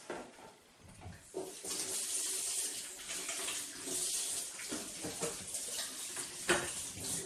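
Water runs from a kitchen tap while hands are washed beneath it. A quiet start gives way to a steady splashing rush that continues for several seconds with small shifting splashes. No one speaks.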